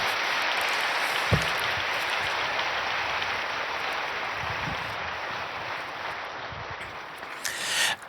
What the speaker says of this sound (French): Et ces applaudissements sont pour le cardinal Torrent.